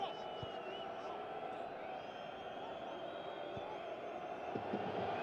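A stadium crowd at the 2017 AFC Champions League final second leg, Urawa Reds against Al Hilal, keeps up a steady, distant roar of cheering and whistling beneath a commentator's voice.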